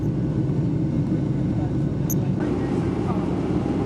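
Steady loud roar of airplane cabin noise while the aircraft climbs, a dense constant engine and airflow drone with no breaks.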